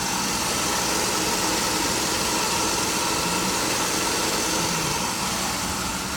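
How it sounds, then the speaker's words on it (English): A 1968 Camaro engine idles up close with a noisy air pump and a worn alternator bearing, a loud steady rumble overlaid with constant whirring and whining, with no talk. "So we've got a pretty noisy air pump and alternator bearing."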